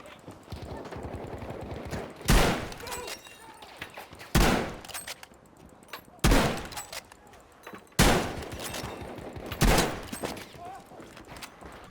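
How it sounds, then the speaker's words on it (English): Bolt-action rifle shots in Battlefield 5, five loud, sharp cracks spaced roughly two seconds apart, each followed by a short decay, over a busy background of distant gunfire and battle noise. "one of the best features of the Recon Class is the sound design of the bolt-action rifles"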